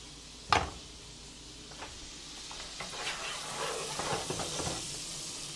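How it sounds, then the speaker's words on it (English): A wine, lemon and garlic sauce for shrimp scampi bubbling and reducing in a pan, a steady soft sizzle with one sharp clink near the start and faint stirring taps. "Look at how that sauce is reducing."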